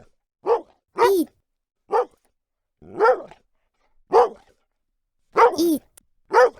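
A dog gives seven short, sharp barks spaced irregularly, each loud and close with silence between, and no other sound.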